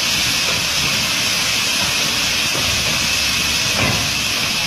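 A steady, loud rushing hiss of grain pouring in a continuous stream into a ship's hold, with a low rumble underneath and no pauses.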